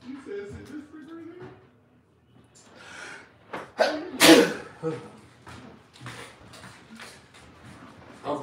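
In a kitchen where a bone-in pork loin is being trimmed, one sharp, loud sneeze bursts out midway, surrounded by scattered speech and small handling noises.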